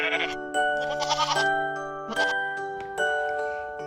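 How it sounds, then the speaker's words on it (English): A goat bleats several times in wavering, nasal cries, each call close and clear, with a light jingling tinkle mixed in. "G for goat."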